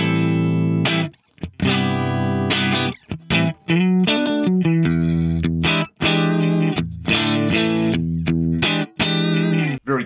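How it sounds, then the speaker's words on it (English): An old Stratocaster electric guitar on the neck and middle pickup combination, clean tone through an analog compressor, plays a bright, choppy riff of short chords and single notes with brief gaps, loud and close. "This is my old Strat on the neck and middle pickup combination."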